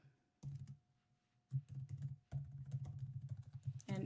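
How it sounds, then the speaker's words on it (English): Typing on a computer keyboard at close range, a few short bursts of quick clicky keystrokes separated by pauses, fairly quiet with no talk. "Typing on camera is full of pressure."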